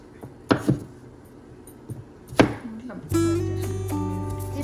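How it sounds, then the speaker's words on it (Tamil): A few sharp knife chops thud on a board, spaced apart, cutting ginger and garlic, then a loud whirring hum of a mixer grinder takes over. "அதெல்லாம் குட்டி குட்டியாக கட் பண்ணி மிக்ஸி ஜாரில் போட்டு அரைச்சி எடுத்துக்கணும்"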